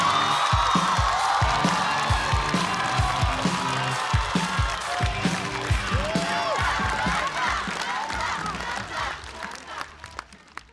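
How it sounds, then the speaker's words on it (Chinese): A live stand-up comedy audience bursts into sustained applause and cheering, with dense clapping and whoops that stay loud throughout before thinning slightly at the end. "掌声有请，谢谢"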